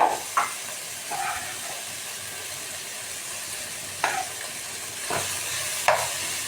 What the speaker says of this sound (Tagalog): Lagyan natin ang giniling nest.